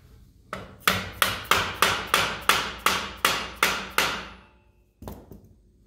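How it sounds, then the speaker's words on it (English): A hammer strikes metal on a Ford Model A roadster, about a dozen sharp, evenly spaced blows ringing close and loud, then a pause and one final hit. "So we'll get a hammer. It's hammer time."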